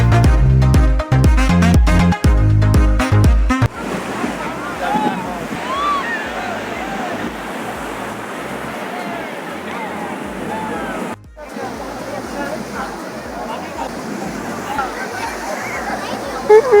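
At Puri beach in the morning, sea waves roar steadily, mixed with gusty wind noise on the microphone. A few seconds of music play before the surf comes in.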